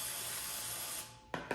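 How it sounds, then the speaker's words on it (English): An olive oil mister sprays a dough container in a kitchen, a steady close hiss of fine mist that fades out, followed by two short sharp puffs. "you're gonna spray the container with the little olive oil"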